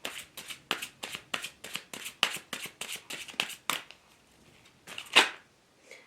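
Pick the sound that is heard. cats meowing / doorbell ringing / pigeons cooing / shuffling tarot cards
shuffling tarot cards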